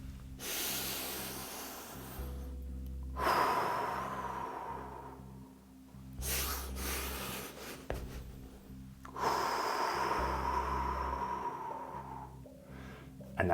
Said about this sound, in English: Slowing things down, and getting the nasal breathing involved, which can be a little alien at first.